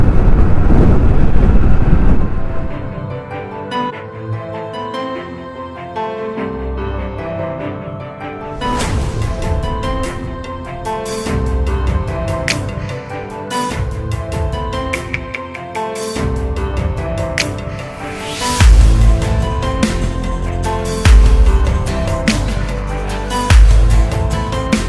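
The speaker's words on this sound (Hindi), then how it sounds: "बहुत दिन के बाद निकल रहा हूँ हमारी एंटॉर्क को" TVS Ntorq scooter on a morning ride along a green highway, engine drone buried under loud, gusting wind buffeting the microphone, with heavy blasts and low rumbles throughout and no talk.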